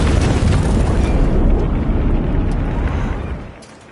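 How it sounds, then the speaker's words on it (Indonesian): Massive bomb blast in an action film, a loud sustained roar of explosion and rumbling debris that fills the whole clip before fading in the last half second. "Noah masih saja meledakkan peledak yang telah dia pasang di luar"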